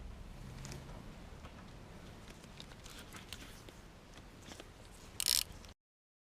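Torque wrench tightening bolts on an Aprilia RSV1000R Factory motorcycle engine during a valve clearance job, a faint run of soft ratcheting clicks ending in a brief louder click, with no voices.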